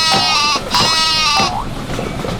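A sheep bleats twice in quick succession, each call a loud, wavering, nasal cry, with the second a little longer than the first.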